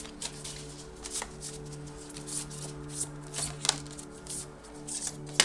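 Tarot cards shuffled by hand, giving a run of soft, close riffles and flutters that come in irregular bursts over a steady low hum.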